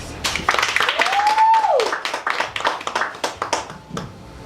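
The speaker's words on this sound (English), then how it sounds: "Here is my applause." Scattered hand claps and light applause at a poetry performance, fairly close, with a brief rising whistle-like tone early on and the clapping thinning toward the end.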